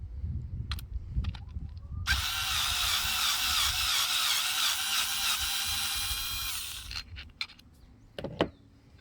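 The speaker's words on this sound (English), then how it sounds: "Now to remove the screw, you use a 6 millimeter bit." A power drill with a 6 mm bit backs a screw out during installation of an electronic pedal kit on a SUR-RON electric bike, giving one steady, loud, high whine of about five seconds, with a few small clicks and knocks before and after.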